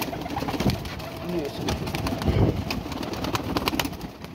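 Pigeons coo softly nearby in low, throaty bursts, with faint background chatter and occasional clicks.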